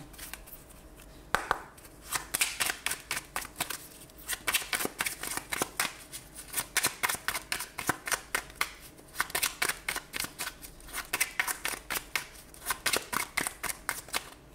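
Tarot cards are shuffled in repeated riffling bursts, a steady rhythm of crisp, close papery flutters and slaps continuing throughout with no talking.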